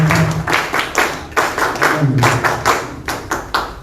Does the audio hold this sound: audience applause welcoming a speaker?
yes